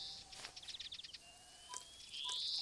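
A European greenfinch calls in the Alba video game: faint quick chirps and a rapid trilling series, then a rising wheezy note, all quiet over soft outdoor ambience.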